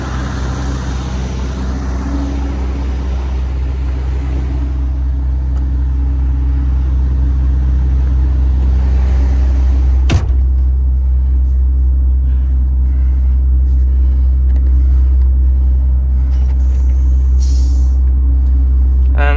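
A MAN TGX 510 truck engine rumbles low and steady as the truck pulls away and drives on, with a sharp click midway and light rattles, heard close from inside the cab.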